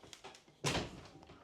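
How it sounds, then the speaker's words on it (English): A sliding door in a countryside house in Japan rumbles along its track, ending in a single firm thunk that rings out briefly, heard close with no talking. "New sliding doors."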